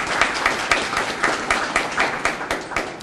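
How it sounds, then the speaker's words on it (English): A room of people at a corrections department kitchen opening gives a round of applause, a loud close wash of clapping with individual sharp hand claps standing out, steady for the whole stretch. "Can we give him another round of applause"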